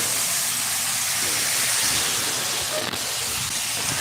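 Food sizzling in a hot pot on a stove set to high heat, a steady broadband hiss that stays loud and continuous throughout.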